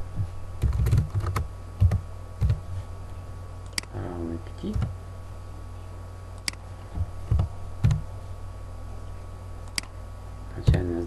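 Someone types on a computer keyboard during a Pascal and Excel programming exercise, with sparse, close clusters of key taps spread across a quiet room and occasional speech between them.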